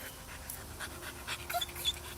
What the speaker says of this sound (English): I love the puppy.